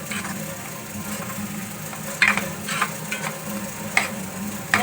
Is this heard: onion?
yes